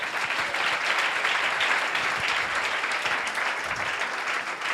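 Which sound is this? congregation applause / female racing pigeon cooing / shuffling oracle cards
congregation applause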